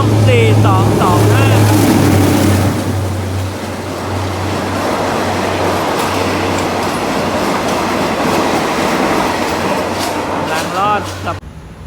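Train on Thailand's southern railway line approaching the Ban Pong curve, a loud, sustained rumble of rolling wagons with a steady low engine drone throughout, easing slightly after the first few seconds.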